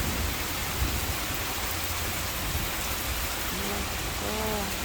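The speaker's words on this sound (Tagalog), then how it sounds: "Malakas yung ulan." Steady, dense downpour of heavy rain, a continuous loud hiss filling the scene, with faint tonal sounds near the end.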